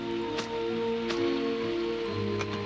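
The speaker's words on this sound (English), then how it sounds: "It had been raining since lunchtime" Steady rain falling outside a house in a 1990s Moomin cartoon, a soft continuous patter under a low musical score with a few faint chimes.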